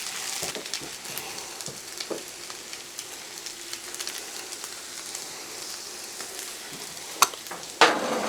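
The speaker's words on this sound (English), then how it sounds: "it is time now to introduce a little bit more flavor, and that is going to be in our ginger and garlic" Ginger and garlic fry on a Blackstone flat-top griddle for pork fried rice, a constant close sizzle and crackle with scattered spatula scrapes and a sharper clatter near the end.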